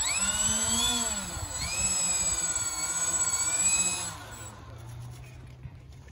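A Flightline OV-10 Bronco model aircraft on its maiden flight gives off a loud, steady, high motor whine with layered tones that rise and fall in pitch, then drops away sharply after about four seconds to a faint low hum.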